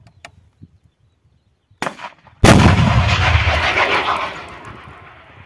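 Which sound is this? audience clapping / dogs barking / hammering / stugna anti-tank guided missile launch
stugna anti-tank guided missile launch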